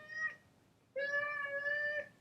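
A hungry male house cat meows close by indoors: one short cry, then a pause, then a long, drawn-out, insistent meow, with no talk over it.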